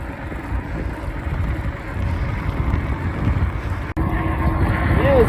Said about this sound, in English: Strong wind today, so slow things down.